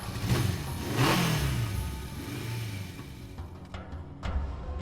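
A motorcycle engine revs up and then eases back, loud and close. After a short settling, a second rev rises near the end.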